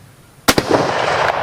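A Finnish Mosin Nagant M91 rifle fires a single 7.62x54R round: one sharp, loud report with a quick second crack, followed by a rolling outdoor echo that lingers and fades.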